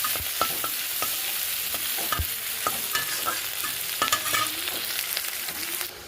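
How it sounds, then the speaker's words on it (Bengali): Onions frying in hot oil with whole cumin seeds in a kadai, stirred steadily: a continuous close sizzle broken by repeated sharp scrapes and clinks of the spatula against the pan. "পেঁয়াজগুলো লাল করে ভেজে নেব।"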